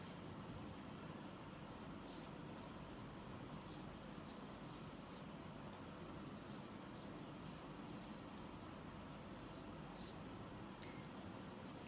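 A stick of charcoal rubs continuously on paper as it traces around a hand, giving a faint, steady scratchy friction with small bursts of stroke noise.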